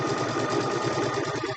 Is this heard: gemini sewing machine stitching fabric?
yes